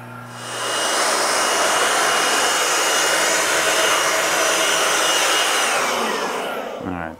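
An air blower dries a car's wheels and tires with a loud, steady roaring whoosh that starts within the first second, holds for about six seconds, then cuts off.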